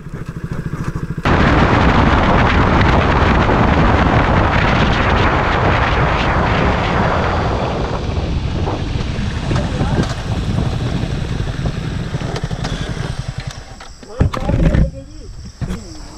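Yamaha R15 V3 and KTM RC 200 motorcycles in a drag race, engines roaring loud and close with heavy wind buffeting, easing toward the end as a voice breaks in briefly.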